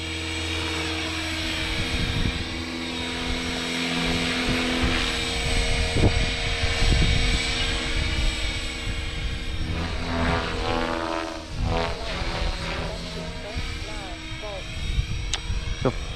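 An Align T-Rex 500 RC helicopter flies nearby, its steady high rotor and motor whine holding throughout with pitch wavering as it maneuvers, while someone talks over it.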